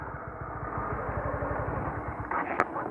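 A clutch-type motorcycle engine putters with rapid, uneven low knocks, close by, then sputters toward stalling near the end.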